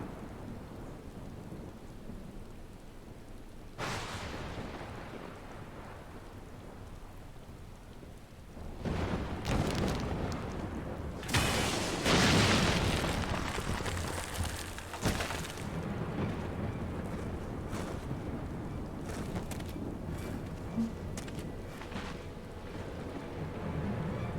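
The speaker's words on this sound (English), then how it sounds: "On a dark and stormy night." Thunderstorm in the Final Fantasy XIV game: steady rain on surfaces with several rumbling thunder rolls and sharp cracks building in the middle, fairly quiet overall, no speech.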